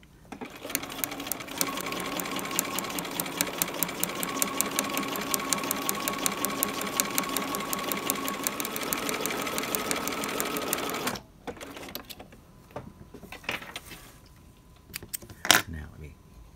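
A sewing machine stitches piping in a fast, steady mechanical chatter for about eleven seconds, then stops, leaving quieter handling noises and a few brief clicks.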